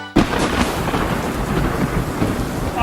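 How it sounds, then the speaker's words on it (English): Heavy storm with sheets of rain and wind howling at 50 to 60 miles per hour, a loud, continuous roaring wash that starts abruptly and stays dense and close throughout, with no voices. "we're just dealing with these sheets of rain and winds that are howling 50, 60 miles per hour."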